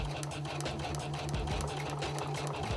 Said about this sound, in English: So you can sew backwards and forwards and sideways.